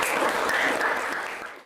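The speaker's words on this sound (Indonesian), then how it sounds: "Oke, tepuk tangan teman-temannya" Classmates clapping together in a classroom, a brief burst of applause that holds steady and then quickly fades out, close and fairly loud.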